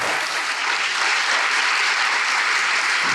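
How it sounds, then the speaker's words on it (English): An audience welcomes an author at a book festival with a burst of applause, a full, even wash of clapping that holds strong and close for the whole stretch. "Please join me in applauding Rebecca Mackay."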